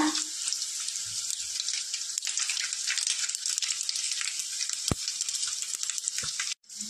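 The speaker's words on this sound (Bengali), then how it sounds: "জিরে ফোড়ন দিলাম, গোটা জিরে, কাঁচা লঙ্কা 4-5টা, মৌরি গোটা" Whole cumin, fennel seeds and four or five green chillies sizzle in hot oil left over from frying fish. A loud, steady crackling hiss fills the whole stretch, with a few sharp pops and clicks before it cuts out briefly near the end.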